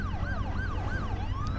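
An ambulance siren in the Driver: San Francisco video game, wailing in a smooth rising and falling cycle over a steady engine drone, loud and close, with no talk.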